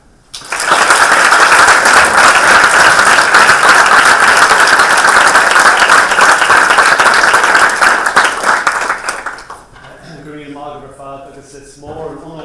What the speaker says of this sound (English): give a big round of applause if you can